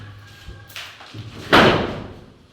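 A wooden door being set into its frame produces soft knocks and bumps, then one heavier thud that rings out briefly, heard close in a quiet room.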